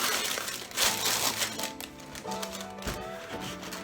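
Dry wrapping paper from a sneaker box crinkling and rustling close by, with a cluster of crisp crackles early on, then softer intermittent handling noises.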